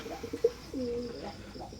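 A pair of imported-bloodline Teddy pigeons coo softly, a short throaty burst followed by a longer rolling coo, faint and close in a quiet space.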